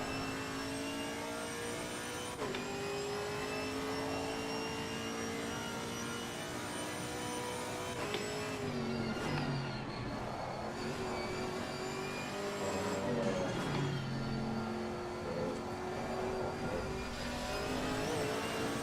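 A race car engine in Assetto Corsa Competizione screams and revs at Suzuka during a test race, its pitch climbing and dropping sharply as the throttle is blipped and lifted, loud and continuous with no talk.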